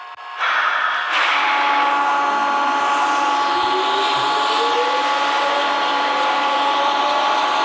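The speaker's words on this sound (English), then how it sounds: "本班列车即将开出，乘客请勿靠近车门。" Seoul Metro Line 2 subway train departing in the Hmmsim 2 train simulator game, a steady electric motor hum with a slowly rising whine as the train pulls away, heard alone without talk.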